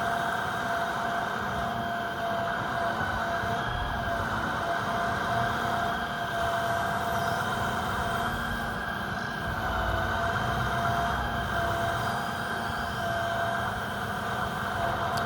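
A log truck's hydraulic grapple and squirt boom unloading logs during the spring thaw, heard as a steady, droning machine hum that holds evenly from start to finish with no breaks.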